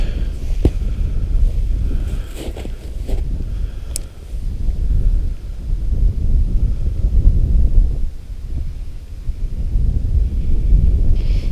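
Wind blows across open lake ice during ice fishing, a constant loud rumbling buffet on the microphone. Gusts rise and fall over the whole stretch, with no talking.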